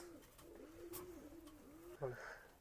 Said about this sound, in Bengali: খুলনার ঐতিহ্যবাহী যে হলো ফ্লাইং এর রাজা কবুতর, গলালাল কবুতর ভিউয়ার্স দেখেন।